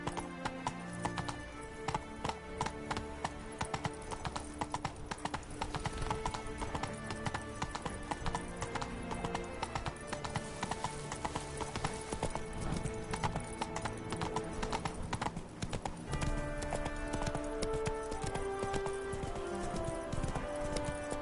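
Roach, the horse from the video game The Witcher 3, gallops with a continuous rapid clip-clop of hooves, loud and close, with an occasional whinny over a busy music bed.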